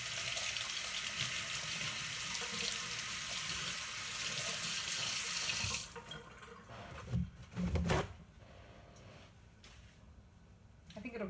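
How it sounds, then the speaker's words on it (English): Tap water gushes steadily into a sink while parsley is rinsed, a close hissing flow that cuts off midway, followed by wet handling, splashes and a few clunks in the quieter kitchen. "I'm just gonna rinse it off."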